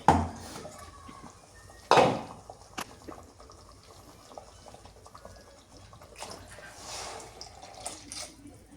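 A ground-masala jar being rinsed with water for fish curry, faint splashing and dribbling with a couple of sharp knocks of the jar against metal, quiet and close throughout.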